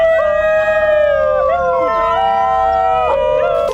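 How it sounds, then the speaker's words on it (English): A New Guinea singing dog in a zoo enclosure gives a continuous melodic howl, its pitch gliding and wavering through rising and falling trills, loud and close, lasting the whole stretch without pause. "This is the New Guinea singing dog, a rare wild dog known for its unusual vocals."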